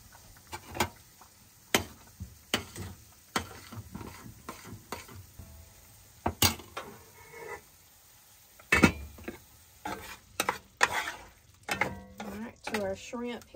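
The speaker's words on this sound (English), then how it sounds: "Stir the bottom of your grits to make sure they're not sticking" Grits being stirred in a pot over a camp stove at Edisto Beach: a spoon scrapes and knocks against the pot bottom in irregular bursts, close and fairly quiet.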